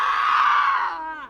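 A loud, sustained scream from a man, close up, trailing off into a strained, wavering tail after about a second.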